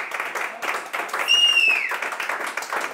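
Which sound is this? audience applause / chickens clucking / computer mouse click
audience applause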